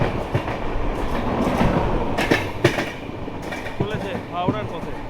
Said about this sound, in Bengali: new Delhi Howrah Duronto express